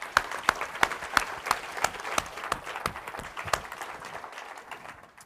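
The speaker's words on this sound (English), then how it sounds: "So we're going to give you another round of applause." An audience applauds at a NOAA 2018 ocean conservation event, with a dense run of claps that starts strong, then gradually thins and fades over about five seconds.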